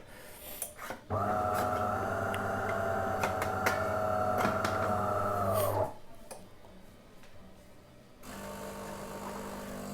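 A coffee machine's steady mechanical hum and whir runs for about five seconds, then cuts off, leaving quiet room noise and faint clicks.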